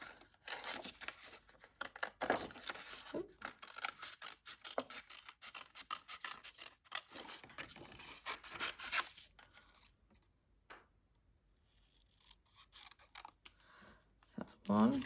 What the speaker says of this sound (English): Now I'm just going to cut them out.